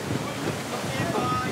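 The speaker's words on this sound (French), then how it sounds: "c'est un peu effrayant de voir des grosses voiles qui claquent comme ça" At night the large sails of L'Hermione, a replica tall ship, flap in a strengthening sea wind. A loud, steady rushing roar of wind and water fills the clip without pause.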